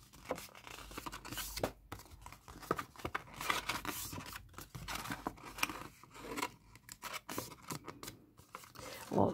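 Scissors snip through paper while a small gift box is being made, giving a run of crisp cuts and crunches with short pauses and a louder snip at the end.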